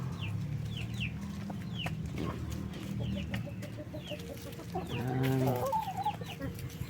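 Backyard chickens clucking and murmuring close by, with repeated chirps from chicks and a louder, drawn-out squawk near the end, over faint outdoor background noise.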